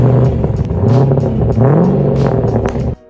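A Subaru fitted with a Corvette 6.2-liter LS3 V8 in place of its 2-liter boxer revs hard and loud up close, the engine note rising and falling through repeated throttle blips with no talk.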